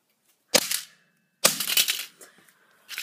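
Game controller struck with a one-handed hammer, two sharp cracking impacts with brief plastic rattles after each, a third blow starting at the end, loud and close.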